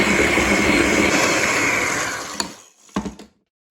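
An electric hand mixer whirs through Victoria sponge cake batter in a bowl, a steady loud buzz for about two seconds that fades and cuts off, followed by a couple of short bursts before silence.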